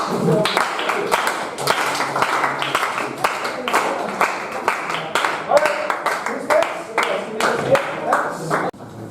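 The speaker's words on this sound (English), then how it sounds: "once again, give applause for" A classroom group applauds, scattered, uneven clapping of many hands mixed with chatter and voices talking over it, moderately loud throughout.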